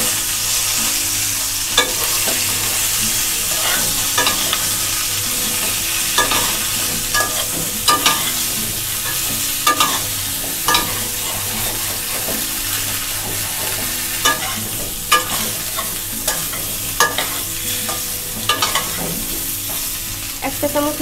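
Cauliflower, potatoes and rui fish frying in hot oil in a pan, a steady sizzle under repeated scraping clicks of a spoon stirring, close and fairly loud with no talk.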